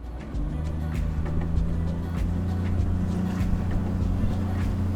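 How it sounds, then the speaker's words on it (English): A motorboat with its weight loaded aft struggles to get on plane, engine droning steadily at high revs, a strained, labouring hum with water rushing beneath, constant and close throughout. "With all the weight aft, the boat has a very difficult time trying to get on plane."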